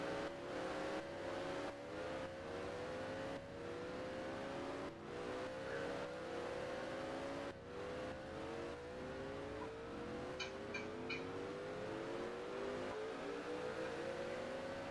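ARCA stock cars on the road course at Portland International Raceway in the NR2003 racing game, several engines droning and whining through gear shifts and passing, steady and moderately loud with no talk.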